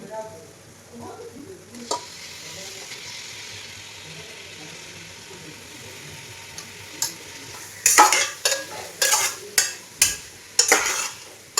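Steady frying sizzle of chicken in a pan, then a run of sharp metallic scrapes and clatters as a utensil stirs it, loud and close.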